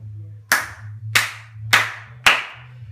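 A single person applauding in a quiet room: four sharp, evenly spaced claps about half a second apart, close and loud over a steady low hum.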